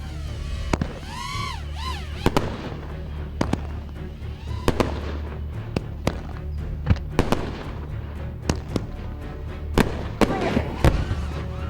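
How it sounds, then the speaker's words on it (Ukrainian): Fireworks burst all around an FPV drone in flight: a rapid, irregular series of loud, sharp cracks and booms with crackling between them, close and dominant. "Тож, який це матиме вигляд, коли зі всіх сторін вибухатимуть феєрверки?"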